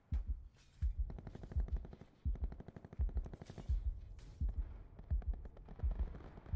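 Rapid automatic gunfire crackles from several directions in Call of Duty: Black Ops 4 Blackout on Alcatraz, with repeated bursts of close and distant rounds layered together and no pause in the exchange.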